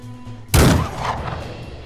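A loud rifle shot in the video game Empire of Sin, a single sharp blast followed by a decaying rumble, heard alone and close.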